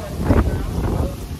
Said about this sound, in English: so it's like mad windy